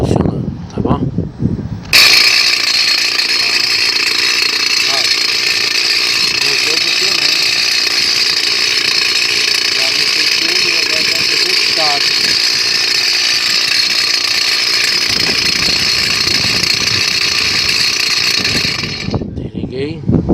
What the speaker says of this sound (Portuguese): Ligar o motor para observar ele funcionando